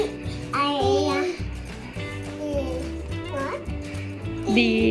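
A dog barks and yips repeatedly, close by, mixed with a child's chatter and other voices.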